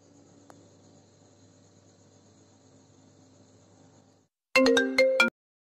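A phone rings in short electronic bursts, two rings close together, after several seconds of low hum and faint background noise.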